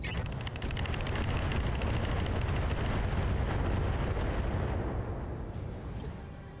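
A heavy barrage of Swarm missiles launched by a mech in the BattleTech video game, a thick rumbling roar of rapid launches and impacts that stays loud, then thins out and fades near the end.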